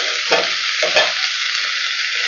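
Three large cut tomatoes dropped into onions sautéing in oil with green chilli and curry leaves for a tomato kuzhambu, a loud continuous sizzle with two brief scraping stirs, close and without speech.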